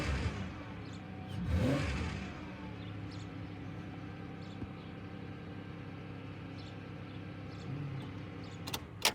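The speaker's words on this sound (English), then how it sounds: "let me go ahead and start it up. Yeah, it starts up very nice. I'll give it some gas." Engine of a cheap used Chevrolet Monte Carlo revs up once in a swelling burst near the start, then settles into a steady idle rumble with small clicks and a sharp knock at the end; no talking.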